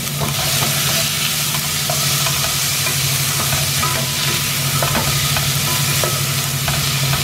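Chopped tomato sizzles and crackles in a hot pan with no extra oil added, a spoon stirring it in steady scraping strokes under a constant loud hiss, close up, with no talk.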